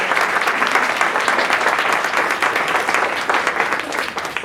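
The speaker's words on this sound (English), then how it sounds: "I also want to give a special round of applause to Lee for" Applause from an audience at a panel discussion, dense steady clapping sustained for several seconds, fairly close and loud, tailing off slightly at the end.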